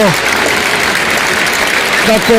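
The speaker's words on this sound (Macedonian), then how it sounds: "Аплауз за загинатите млади луѓе во Кочани" A city stadium crowd claps during a match stoppage in tribute to young people killed in Kočani, a steady wall of applause with scattered voices rising over it.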